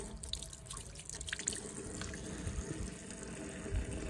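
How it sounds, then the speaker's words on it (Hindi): Tap water runs steadily to wet a brush at a sink indoors, a continuous close splashing trickle with a few small drips and no talking. "ब्रश को पहले गीला कर लेते हैं"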